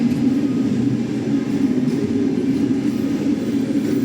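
A passenger train pulls away from a station platform, its steady low rumble of rolling wagons holding loud and even throughout with no voices over it.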